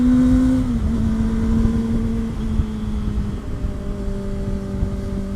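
A Kawasaki ZX25R motorcycle fitted with a new aftermarket exhaust accelerates on an open road, its steady engine tone rising and shifting pitch continuously with wind noise underneath, close and fairly loud throughout.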